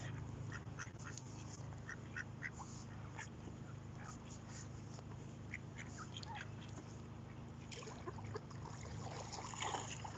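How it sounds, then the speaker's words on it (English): Ducks quack repeatedly while squabbling over food at the water's edge in the evening, scattered calls and splashy bursts rising over steady outdoor background noise. "They're so busy fighting that they're missing the food and other ducks are actually getting it."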